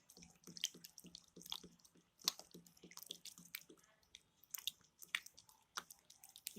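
A pink lip balm mixture is whisked by hand in a small container, giving soft, wet, irregular clicks and taps close by with no talking.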